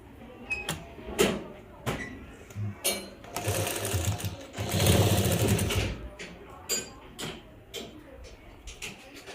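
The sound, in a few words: sewing machine stitching face mask fabric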